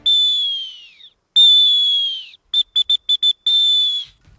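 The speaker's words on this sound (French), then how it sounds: "Magnifique sifflet d'urgence." A shrill emergency whistle built into a survival shovel blows loudly: two long blasts, then a quick burst of short toots, and a final long blast, with silence between.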